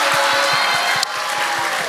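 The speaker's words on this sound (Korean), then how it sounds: "박수 주세요." Middle school students clapping for a visiting career counselor in a classroom, a fairly loud, even wash of applause with a few deeper rhythmic thumps and one brief sharp knock partway through.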